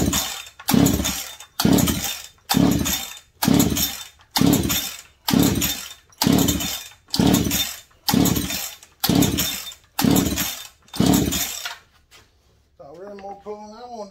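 A Husqvarna 372XP chainsaw, fresh from a cylinder swap and choked, is pull-started again and again: about a dozen evenly spaced loud rope pulls with brief engine coughs, each followed by a short pause, then a voice speaks at the end.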